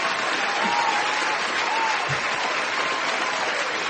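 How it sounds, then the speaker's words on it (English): Applause from an audience for John at a political talk event with George Pataki, a dense, steady wash of clapping at even loudness from start to finish. "I want to give an applause, first of all, for John today, okay? Here it is."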